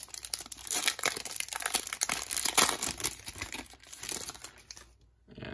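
A 2019-20 SPX hockey card pack wrapper is torn open, a dense, continuous crinkling and ripping of foil close to the ear that fades out at the end.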